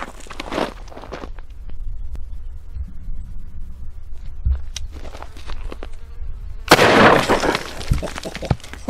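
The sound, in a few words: Citadel Boss double barrel shotgun shooting a watermelon with slug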